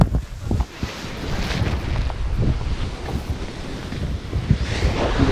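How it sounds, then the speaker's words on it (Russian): Wind gusts steadily outdoors at a ski resort, a broad continuous rush that swells and eases over several seconds with no voices. "Ветер в спину!"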